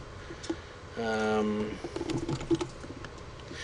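Typing on a computer keyboard at a desk: quick close keystrokes in uneven bursts, with a short tonal voice-like sound partway through.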